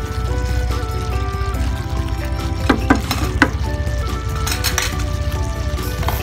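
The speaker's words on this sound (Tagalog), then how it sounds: "after 10 minutes, kumukulo na siya. Haluin lang natin siya ng saglit." Steady bubbling and sizzling from a pot of eggplant pasta sauce boiling on the stove, with a few sharp scraping clinks of a utensil stirring partway through.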